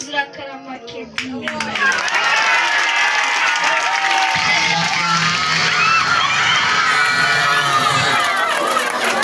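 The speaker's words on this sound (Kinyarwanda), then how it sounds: "tubongera amashyi" Audience at a children's poetry recital during an anti-drug community gathering breaks into loud, sustained clapping and cheering, the crowd noise swelling after a brief start and holding steady to the end, with children's shouts mixed in.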